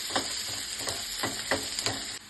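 Curry leaves and onions sizzle in hot oil as a tempering for vegetable dal sambar, a steady close crackle with several louder bursts of spitting as they are stirred, no voices.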